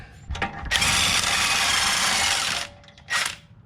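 A power tool unscrewing a part on a Geo Tracker during a lift kit install: one sustained whirring buzz of about two seconds, with short bursts before and after, close up and alone.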